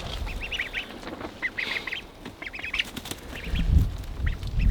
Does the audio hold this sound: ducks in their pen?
yes